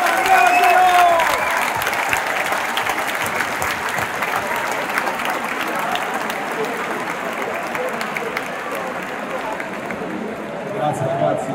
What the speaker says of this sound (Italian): Un grande applauso ad Angelo Palonco.